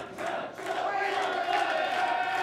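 Crowd at a 2006 Cyber Event wrestling show roaring and chanting for Chad Collier, a sustained cheer that swells after a brief dip and stays loud to the end.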